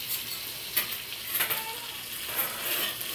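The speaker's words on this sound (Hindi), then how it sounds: "ये हमारे कबाब बिछाए जा रहे हैं।" Reshmi kebabs are laid onto a charcoal barbecue and sizzle steadily with a close, crackling hiss, broken by a few light clinks and scrapes.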